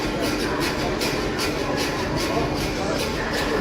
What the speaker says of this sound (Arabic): وهذا قطار البراق.